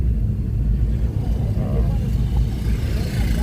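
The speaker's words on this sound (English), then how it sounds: "There is traffic. Oh my god, look. Oh my god, traffic. Crazy traffic." Heavy road traffic jam on a village-area road gives a loud, steady low rumble of idling and slowly moving vehicles, continuous throughout with no distinct passes.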